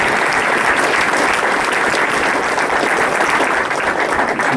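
Loud, dense applause fills the room after a Jefferson County sheriff's debate, a sustained unbroken roar of many hands clapping at close range with no talk over it.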